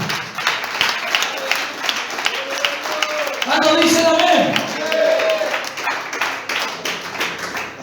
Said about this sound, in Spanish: Aplauda que vive.